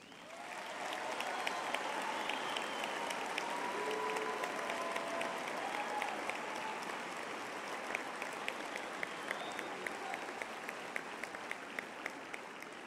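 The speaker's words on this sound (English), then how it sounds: "let us now give our graduates a big hand of applause" A large audience at a university faculty graduation ceremony applauds the graduates with sustained, dense clapping that swells early and then holds steady for the whole stretch, with crowd noise mixed in.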